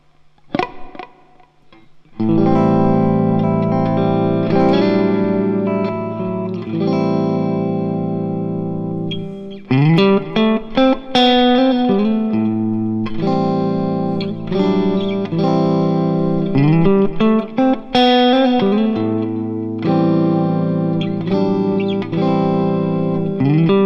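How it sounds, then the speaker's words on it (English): An electric guitar played through a Fender Mirror Image delay pedal set for tape echo with flutter modulation, sustained chords and picked notes ringing out loud and close with trailing, wavering repeats and brief pauses between phrases. "the modulation controls deal with the amount of tape flutter that's associated with tape echo machines of yesteryear"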